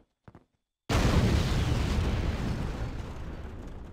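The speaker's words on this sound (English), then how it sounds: "Bomb!" A loud bomb explosion in the James Bond video game The World Is Not Enough, set at Maiden's Tower: a few faint clicks, then a sudden heavy blast that rumbles on and slowly decays.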